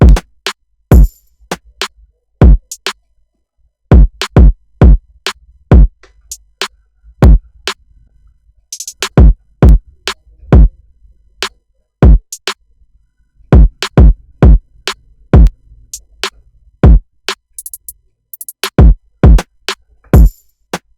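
Several drum layers play together in a groove: booming kicks plus sharper snare and hi-hat hits in a steady repeating rhythm, no voices.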